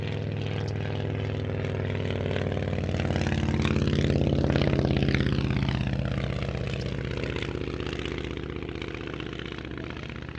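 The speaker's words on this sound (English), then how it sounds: "The aircraft you see here, one of the more powerful versions, fitted with a 105 horsepower Genic Major 5-cylinder radial engine" A vintage aircraft with a 105 horsepower Genet Major five-cylinder radial engine drones loudly and continuously, swelling as it passes close at an air show and then easing away.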